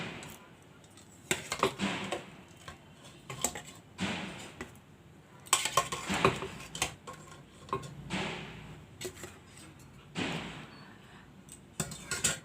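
Soft boiled green mango being lifted out of a pot onto a plate in a home kitchen, with scattered clinks and taps of utensils and dishware, close and moderately quiet, in short irregular bursts.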